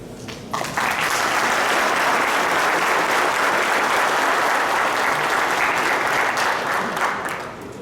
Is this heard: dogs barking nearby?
no